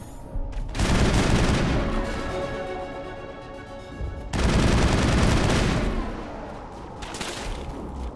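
Gunfire in the video game Mass Effect: loud, sustained bursts of automatic weapon fire, two long volleys separated by a brief gap, then a shorter third burst.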